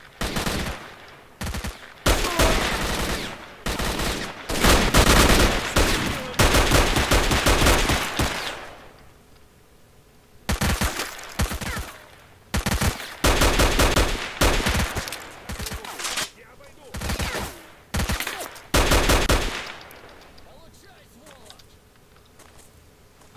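Video game gunfire in S.T.A.L.K.E.R.: rapid bursts of automatic shots come in loud clusters, broken by short lulls and a pause midway, with some footsteps between volleys.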